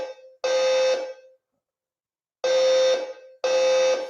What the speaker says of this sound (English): The fire alarm in the building has been activated.